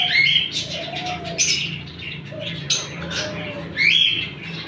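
A male chukar partridge in a bird market gives a series of about four loud, close, raspy squawking calls in short bursts over a low background murmur.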